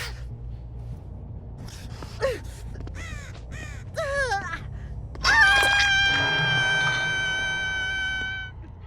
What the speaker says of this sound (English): Heard a crow. The crow just played.